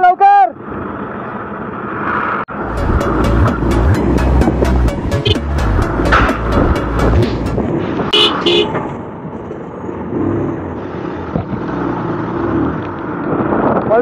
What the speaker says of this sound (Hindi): पल्सर 220 के हॉर्न को सब इज्जत देते हैं भाई